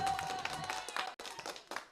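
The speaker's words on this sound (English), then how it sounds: "We have to give them a round of applause." A few sparse, fairly faint claps ring out for contestants in an online word game show, coming in scattered bursts with a brief gap midway.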